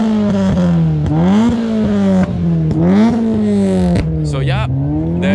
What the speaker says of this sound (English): there is a exhaust sound contest going on